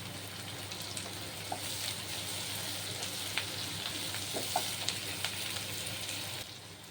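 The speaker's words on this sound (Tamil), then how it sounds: "கோல்டன் ப்ரௌன் ஆகிற வரைக்கும் இதை ஃப்ரை பண்ணணும்." Onions with mint and coriander fry steadily in a pan for a spicy tomato thokku, a continuous close sizzle with faint crackles and pops throughout.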